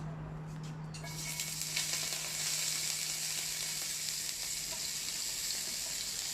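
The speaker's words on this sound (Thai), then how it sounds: "หลังจากที่เราใส่น้ำมันแล้วเราก็จะใส่กระเทียมก่อน" Garlic sizzling in hot oil in a wok for Thai fried rice, a steady loud frying hiss that jumps up after the first second and then holds evenly, with no talking.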